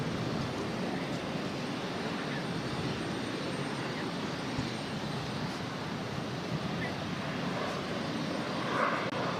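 A JetBlue Embraer E190 jet takes off, heard as a continuous broad engine roar at a distance, steady and fairly faint throughout with no talk.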